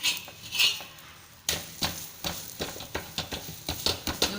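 A spoon or spatula knocks and scrapes against a hot pan while oil is spread over a thepla flatbread, starting with a soft rustle and then giving a quick run of sharp metallic taps, close and distinct.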